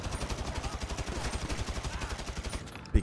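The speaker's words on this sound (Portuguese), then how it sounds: "Opa, tô atirando." A gun fires rapid automatic bursts in GTA V, with evenly spaced shots rattling steadily for about three seconds at moderate loudness and a heavier thump at the very end.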